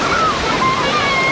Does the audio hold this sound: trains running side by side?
no